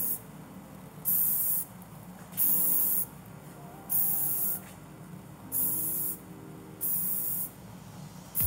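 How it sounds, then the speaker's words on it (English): Feather-light hairspray is sprayed onto hair for volume and hold in six to seven sharp, evenly spaced aerosol hisses of about a second each. Quiet pauses fall between the bursts. "Now I want to add feather light hairspray to make it bigger and for it to hold."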